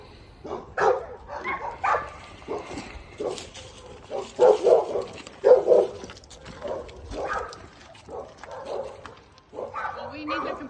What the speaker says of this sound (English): there's another dog over there